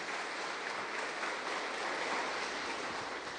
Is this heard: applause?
yes